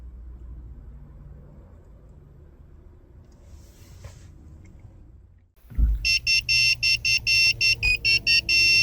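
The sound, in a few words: key programming tool beeping tone signalling completion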